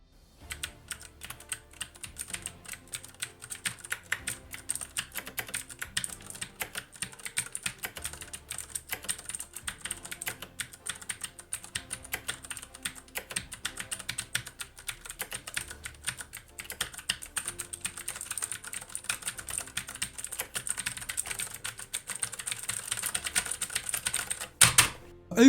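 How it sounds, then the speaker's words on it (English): Rapid, crisp key clicks from a Fnatic Rush G1 keyboard patter continuously for about twenty-five seconds, steady typing turning into dense button mashing, close and fairly quiet, ending with a few heavier thumps. "Here's a quick typing and button mashing test to hear how it sounds."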